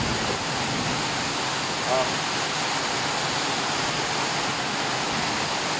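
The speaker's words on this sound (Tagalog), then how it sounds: "Ngayon sabay buhos yung ulan." Heavy rain pouring down in Masbate, Philippines, in a steady, dense roar of hiss that holds unchanged throughout.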